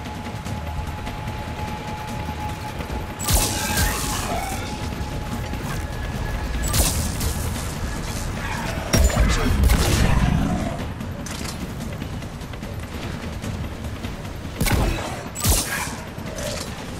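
Combat gunfire from the video game Mass Effect 3, sounding as repeated bursts and sharp impacts over a steady mechanical hum, loudest in a heavy flurry midway and returning in brief volleys near the end.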